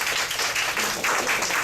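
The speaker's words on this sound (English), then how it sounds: "please give him a round of applause as he makes his way up" A small audience at a political meet and greet gives a short, faint round of applause, a soft patter of many hands heard at a distance for a moment.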